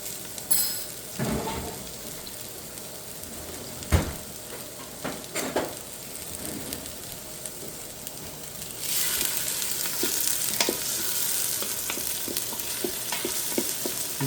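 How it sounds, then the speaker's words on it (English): Vegetables saute in a hot pan for a Corn & Green Chili Bisque, with a steady sizzle and occasional scrapes and stirs of a utensil; the frying grows louder and brighter partway through. "so we're just going to saute this for a couple of minutes"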